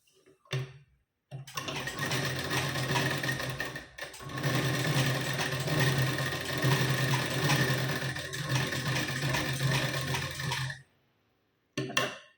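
A home sewing machine runs steadily for close to ten seconds, stitching tucks on a blouse, with a brief start and a short stop before and after. It is near and fairly loud, with no talk.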